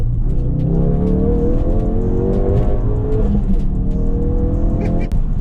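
A stock MK3 Ford Focus RS accelerates hard through the gears, its engine note rising loudly in repeated climbing sweeps heard from inside the cabin, with a brief sharp click near the end and no talk over it.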